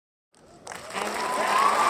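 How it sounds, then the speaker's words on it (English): Audience applause for a guest introduced at a community talk, starting from silence and swelling within a second into steady, dense clapping that keeps building. "Thunderous applause."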